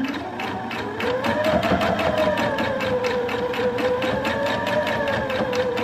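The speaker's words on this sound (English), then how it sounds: "I'm just gonna sew straight across." A home sewing machine runs one continuous straight seam across fabric, a loud, steady, rapid stitching whir with a fine regular needle pulse, alone.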